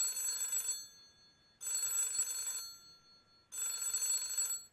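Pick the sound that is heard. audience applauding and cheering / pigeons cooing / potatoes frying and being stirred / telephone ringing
telephone ringing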